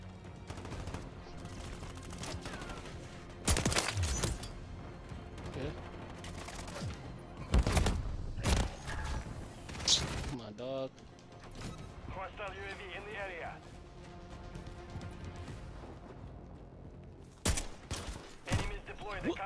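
Gunfire bursts from the video game Modern Warfare 3 on the Incline map, with sharp shots and rapid volleys popping intermittently among mechanical clicks and quieter game ambience.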